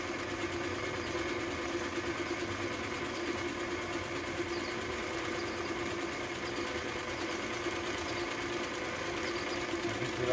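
A Singer 319W sewing machine runs steadily while sewing a ball stitch at a very short stitch length, giving a continuous, even mechanical whir and hum at moderate, constant loudness for the whole stretch.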